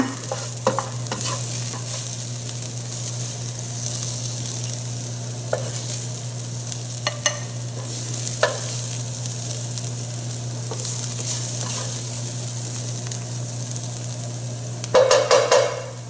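Vegetables fry in a pan with a steady close sizzle, a constant low hum beneath, and occasional sharp scrapes and clinks as they are stirred.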